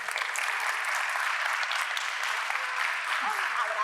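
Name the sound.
audience applause for Lily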